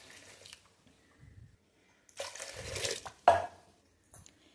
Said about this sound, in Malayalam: ഇനി നമുക്കിതിലേക്ക് വെള്ളം ഒഴിച്ച് കൊടുക്കാം കേട്ടോ.